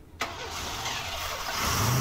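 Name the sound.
Chevy TBI car engine running and idling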